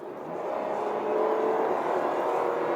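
A Kia Ray light car accelerates hard, its engine note a steady, building whir and drone heard from inside the cabin, with no talk.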